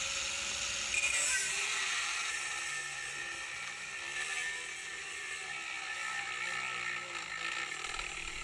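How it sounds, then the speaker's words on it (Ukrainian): An EMTOP 900 W angle grinder cuts through two discs under maximum motor load during a crash test, making a thin, steady high whir with a slight grinding rasp that runs continuously at moderate-to-low level. "Зріжемо зараз два диски під максимальним навантаженням на двигун"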